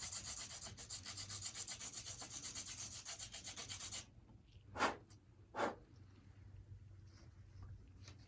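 A steady scratchy rubbing of a pencil against an abrasive pad for about four seconds, then two brief isolated strokes, close up in a quiet room.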